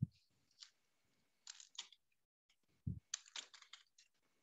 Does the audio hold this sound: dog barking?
no